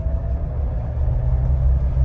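A Mahindra Thar engine runs steadily in first gear at low revs, giving a close, continuous low rumble that builds slightly toward the end, with no talk over it.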